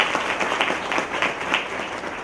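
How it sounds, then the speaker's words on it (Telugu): A crowd at a corporation anniversary celebration in Nellore applauds steadily, a dense patter of many hands clapping at moderate distance with no pauses. "వారికి చప్పట్లు కొట్టింది గట్టిగా"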